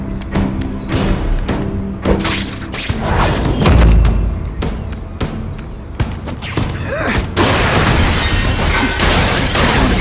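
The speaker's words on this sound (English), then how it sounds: "And boom goes the dynamite." Dynamite blast in an action scene from The Amazing Spider-Man 2: crashing, shattering debris and heavy thuds, with a deep boom swelling midway and a dense roaring wash of destruction toward the end, loud and close.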